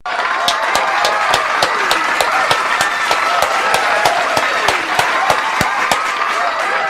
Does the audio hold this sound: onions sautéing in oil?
no